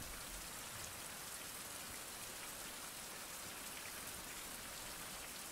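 Rain pours in a 16th-century survival video game, a steady even patter of drops on surfaces forming a continuous hiss, quiet and unbroken, with no voices over it.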